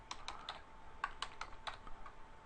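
Quick, light tapping on a computer keyboard, a few irregular bursts of keystrokes in a quiet room, close and fairly soft, with no talking.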